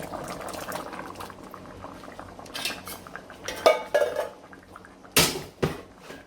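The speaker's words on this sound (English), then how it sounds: "Diced tomatoes. I'm gonna add that, a whole can." A whole can of diced tomatoes goes into a simmering stovetop beef stew, with wet plops and a couple of sharp metal clanks from the can and pot over a steady bubbling boil.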